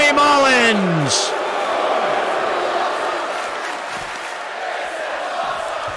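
Capacity arena crowd roars in a WWE 2K22 wrestling match after a suicide dive, a loud sustained cheer with a whooping shout rising at the start and steady crowd noise underneath.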